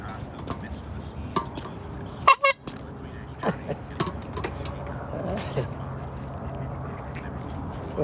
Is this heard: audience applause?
no